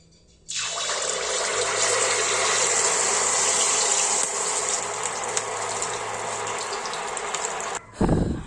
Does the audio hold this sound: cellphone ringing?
no